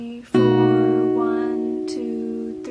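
Guitar chords strummed across all strings at once as part of a pre-chorus, with one loud strum ringing out and sustaining. A softer strum follows near the end.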